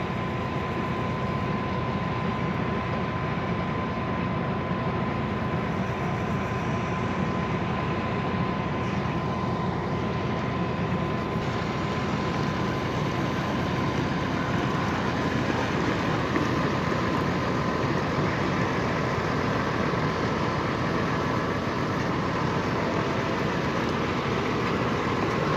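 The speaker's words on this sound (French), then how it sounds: "c'est un beau tracteur également, donc c'est un New Holland T7 260" New Holland T7 260 tractor engine running during a wheat harvest, a steady loud drone with a constant whine on top, continuous for the whole stretch with no talk.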